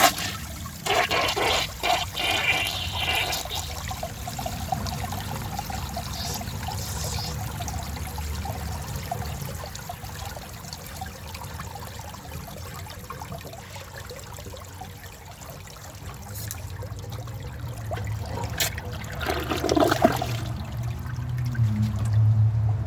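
A Gerber Maxwell wall-mounted toilet flushes with its tank filled to the top, a sustained rush and gurgle of water lasting many seconds, then a trickle and refill near the end, heard up close with no talk.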